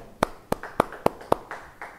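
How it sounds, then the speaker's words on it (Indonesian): A church congregation claps in unison: five sharp, evenly spaced claps ring out loud and close, followed by a few softer, trailing claps. "Yang percaya, beri tepuk tangan bagi dia."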